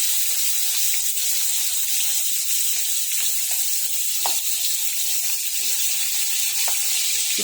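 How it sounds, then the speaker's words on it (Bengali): Dried hilsa fish (shutki) frying in hot oil in a pan, giving a steady, dense sizzle with a few soft clicks of stirring throughout. "এখন আমি ইলিশ মাছের শুটকিটা, এই যে ড্রাই ফ্রুট বলে না, এই শুটকিটা আমি ভেজে নেব।"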